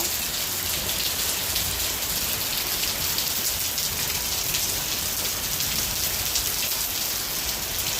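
Steady monsoon rain falling continuously, a dense even hiss of drops on surfaces at constant loudness with no voices.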